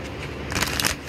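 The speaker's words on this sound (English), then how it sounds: "Now I'm trying to shuffle these the way I shuffle the Mother of Gaia cards" Tarot cards shuffled vigorously by hand, a brief papery riffling burst rising over a quiet room, close and fairly soft.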